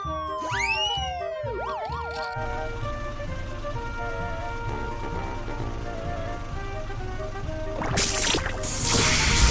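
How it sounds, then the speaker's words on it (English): A wailing toy police car siren sweeps up and down over busy music, then gives way to a louder burst of noise near the end. "Police car."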